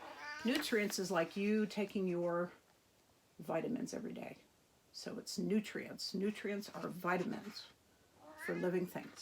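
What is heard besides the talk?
pet cat meowing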